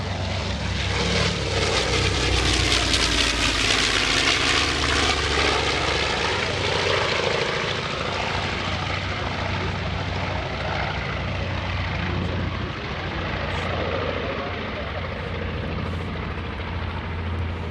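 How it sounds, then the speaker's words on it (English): A North American B-25 Mitchell bomber at an airshow drones loudly overhead, its deep twin radial-engine roar swelling and then easing slightly as it passes, with no talk. "the North American B-25"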